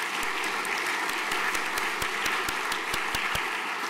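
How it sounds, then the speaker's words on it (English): A room full of people gives applause for Schoolhouse at a school house night prayer gathering, a dense, even patter of clapping with scattered sharper claps, steady throughout and without speech. "So round of applause for Schoolhouse, please."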